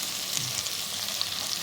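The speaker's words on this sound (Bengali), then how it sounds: "তাই আমি তেলেতে একটু পেঁয়াজের সাথে পটলটাকে ভেজে নিচ্ছি" Pointed gourd frying with onion in hot oil, a steady close sizzle with soft crackles and occasional light stirring, with no voices.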